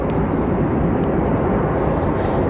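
A Lufthansa A350 or Boeing 787 on the runway at O'Hare gives a loud, steady, broadband engine roar, constant with no breaks and no speech.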